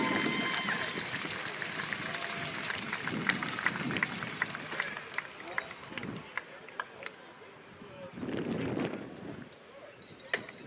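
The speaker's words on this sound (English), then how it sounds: "Please give them a round of applause for a great season and a strong championship performance" Crowd at a football championship ceremony applauding the runner-up team, with scattered claps and cheers rising and falling over steady background noise, while a voice talks through part of it.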